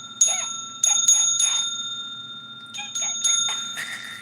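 A hand bell rings in two bursts of bright, clear strikes, each tone lingering and shimmering before the next shake, with quiet in between.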